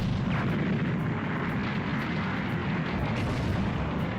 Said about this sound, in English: Light grenade!